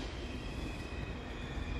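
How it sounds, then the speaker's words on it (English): A train rolling in at a station at Bamber Bridge makes a steady, low, continuous rumble with a faint metallic hum, heard fairly distant and unbroken. "My train is appearing over my shoulder."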